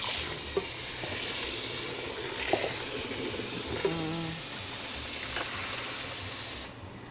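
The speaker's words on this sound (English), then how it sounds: "I'm doing a quick rinse down on this right now" Kitchen faucet water running steadily over a cooking pot during a quick rinse, a constant hissing splash with a few faint clinks, and the flow cutting off near the end.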